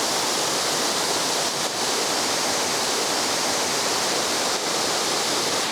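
A waterfall roars in a constant, dense rush of white water, loud and near, unbroken for several seconds with no voices over it.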